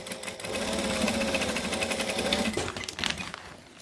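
A sewing machine runs steadily for several seconds, stitching the base of a fabric pouch sewn base side up, with a brief pause in the rhythm near the end and no talking.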